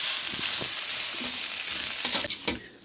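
Rice with vermicelli fries in a pan as it is stirred: a continuous close sizzle with scraping stir strokes that grow more distinct toward the end.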